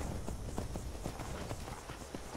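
A horse walking in Skyrim clops its hooves in a steady, even rhythm, each footfall a soft, close thud over a noisy ambient background with no talking.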